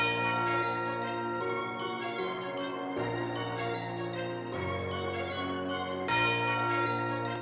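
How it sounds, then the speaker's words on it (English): A tubular bell from Ableton Live 12's stock instruments plays sustained, shimmering metallic strikes with long ringing overtones, about four notes struck at intervals over a loud continuous musical bed, with no voices. "Just add this tubular bell in as well."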